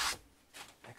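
Short brushing strokes of a hand or brush sweeping excess plastic embossing powder across a craft desk, three quiet rubbing swishes spaced about half a second apart.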